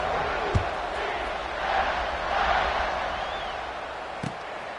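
A football stadium crowd roars steadily after a kickoff, a broad sustained wash of cheering that swells midway, with a couple of sharp thumps near the start and end.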